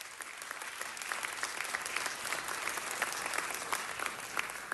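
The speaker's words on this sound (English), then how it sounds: "Give them a round of applause." Sustained round of applause for staff at a city council meeting, steady dense clapping from a sizeable crowd filling the room at an even level throughout.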